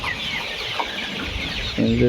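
Layer hens on a poultry farm make repeated close clucks and soft squawks over a busy background hum of the flock, with a louder burst of calls at the end.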